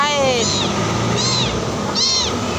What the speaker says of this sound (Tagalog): Ay, wawa naman ang miming na yan.